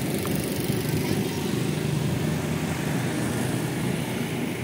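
Superbike fitted with an SC Project titanium-carbon slip-on exhaust and titanium link pipe, cold-started and held at a steady, loud, continuous idle rumble throughout.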